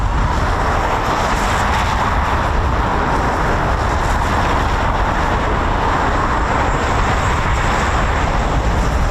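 Eurofighter Typhoon FGR4 jet engines running after a restart at RAF Coningsby, a steady broad roar heard from a distance with strong wind noise, with no talking.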